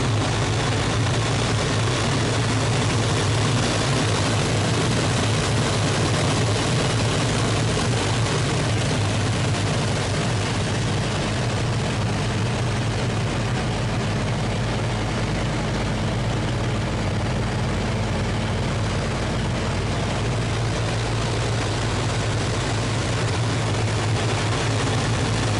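A Hawker Hurricane propeller aircraft's engine drones steadily and loudly throughout an aerobatic wingover, a dense, continuous roar with no talking.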